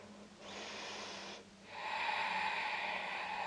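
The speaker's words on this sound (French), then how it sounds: "Dernière longue inspire, expire." During a yoga breathing exercise, a soft airy breath is drawn in, a short pause follows, then a longer, louder steady exhale streams out close to the microphone.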